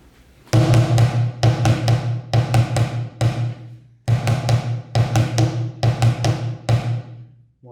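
Bucket drum practice pattern for beginners, played as repeated triplet groupings: bursts of sharp, resonant hits in steady rhythmic clusters with brief gaps between phrases, close and loud with no talking.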